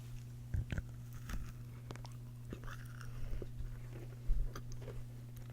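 Firm, crunchy Crumbl chocolate brownie cookie topped with soft brownie batter, bitten and chewed close up in a quiet room: a few sharp crunching bites spaced across the moment, with softer chewing between them over a steady low hum.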